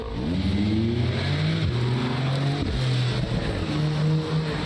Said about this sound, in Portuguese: Aqui são carros que fazem barulho.